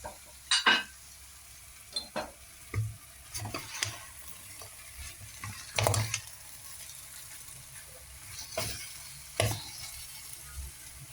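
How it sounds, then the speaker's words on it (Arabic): Okra being sautéed with lamb in a pan, soft background sizzle broken by intermittent sharp scrapes and clacks of stirring, close and fairly quiet. "هنشوح البامية مع اللحم"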